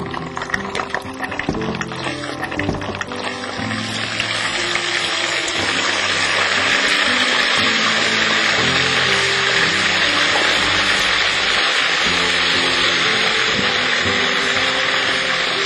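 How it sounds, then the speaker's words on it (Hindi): Water and garlic-ginger paste poured together into a cooking pot, a steady loud rushing pour with some clatter at the start, continuing without a break. "पानी और लहसुन अदरक का पेस्ट एक साथ डालूं।"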